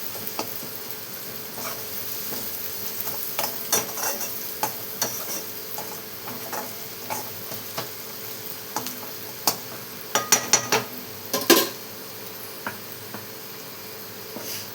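Ridge gourd with soaked moong dal and spices being sautéed in a pan, giving a quiet, steady sizzle broken by scattered ticks and scrapes of stirring that cluster more densely near the end.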